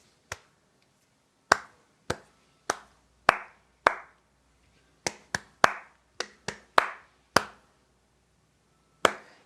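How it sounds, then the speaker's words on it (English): Hands clap a rhythm pattern of about fourteen sharp, close claps, irregularly spaced with short pauses and quick groupings, heard alone in a quiet classroom with no talking. "please clap back to me a long walk pattern?"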